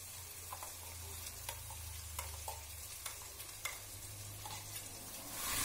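Poppy seed paste frying with potatoes for Bengali aloo posto, a steady soft sizzle with scraping stir strokes and light clinks against the pan, a low hum underneath, no talking.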